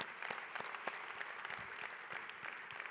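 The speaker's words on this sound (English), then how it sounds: "Give him a round of applause." An audience at a business coaching event claps steadily, with distinct individual claps standing out from a fairly faint, even round of applause.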